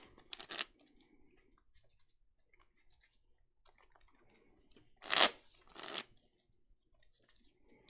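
A deck of Pokémon trading cards shuffled by hand, quiet riffling bursts, one near the start and two louder ones about five and six seconds in, separated by near silence.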